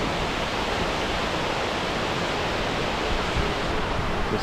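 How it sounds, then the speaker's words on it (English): A waterfall in the Gastein valley pours steadily below, a dense, broadband rushing roar that holds even and unbroken throughout, with no voices over it. "there's a sick waterfall down there."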